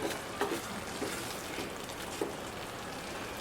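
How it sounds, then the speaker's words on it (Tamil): Soft, steady sizzling of masala frying in oil for sundakkai kara kuzhambu, with a few light clicks and pops scattered through the crackle. "மசாலா வதங்கி எண்ணெய் வர ஆரம்பிச்சிருச்சு"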